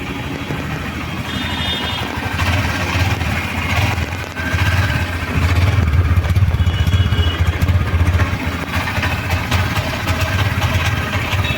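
A 2025 Honda Shine 125 motorcycle engine runs steadily at idle, a low, throaty chug with mechanical clatter, close and fairly loud throughout.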